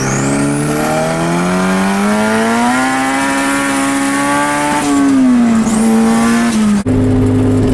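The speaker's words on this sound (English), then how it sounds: "So I did a fourth gear pull, and I ended up hitting my boost cut." Turbocharged Honda pulling hard through fourth gear, the engine note climbing steadily and loudly for several seconds, easing briefly, then cutting abruptly as boost cut hits near the end.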